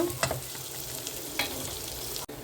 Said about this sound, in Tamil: சேர்த்து நல்லா கிளறி விடுங்க.